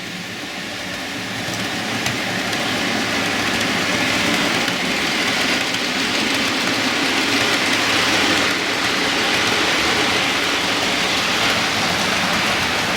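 A small model train rumbles steadily along its track with a continuous whirring, clattering hum that holds level throughout, close and fairly loud.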